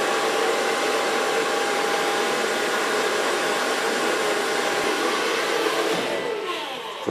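A hair dryer blows continuously and loudly while short platinum blond pixie hair is dried, a steady close whoosh that trails off slightly at the end.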